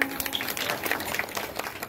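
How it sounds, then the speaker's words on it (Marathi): An audience at a Sai bhandara kirtan claps together, a dense, steady patter of many hands heard close and fairly loud for a couple of seconds. "एकदा टाळ्या वाजवा ना"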